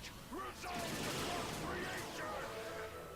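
A strike shot fires off in the mobile game Monster Strike, a dense burst of game effects with bright rising and falling tones over a loud, sustained clatter of impacts lasting a few seconds.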